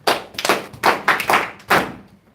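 A few people in a gospel class applaud a student, with sharp, uneven bursts of clapping in several distinct clusters close to the listener before it quickly dies away.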